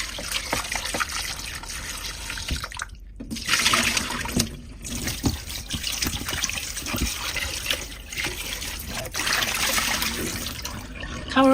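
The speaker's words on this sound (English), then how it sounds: "Rinse your fresh lamb chops under running water." Water runs steadily from a tap over lamb chops being rinsed, with splashing and trickling, a brief pause midway, continuing close and moderately loud.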